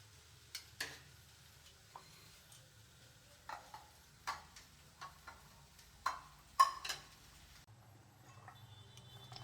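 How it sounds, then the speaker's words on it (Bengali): Raw chickpeas fry lightly in a pan in a village home kitchen, giving a faint, quiet sizzle broken by scattered utensil taps and stirring clicks, with no talking. "তো হালকা করে কাঁচা ছোলাগুলো আমি ফ্রাই করে নিচ্ছি"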